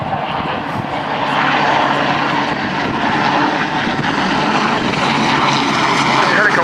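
An RAF Sea King helicopter, XZ587, flying at the Cosford air show, its rotor and turbine roar loud and continuous, with crowd or commentary sound faintly mixed underneath.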